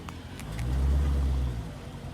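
A car arrives to park nearby, its low engine rumble swelling as it passes close and then fading away, faint and brief.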